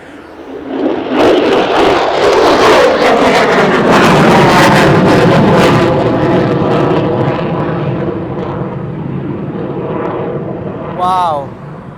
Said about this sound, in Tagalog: abangan natin yung mga jet fighter ngayon